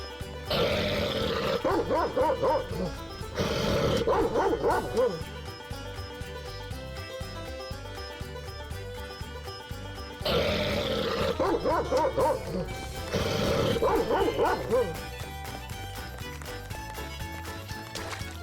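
A dog in the Sherlock Holmes The Awakened video game barks in two separate bursts of several barks each, moderately loud over a continuous game music bed, with no talk.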